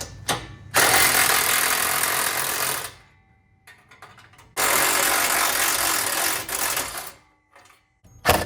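Ratchet tools rattle in quick bursts while an exhaust is removed from a BMW E46, two long loud stretches of rapid clicking separated by a quiet pause, with a short burst at the very end.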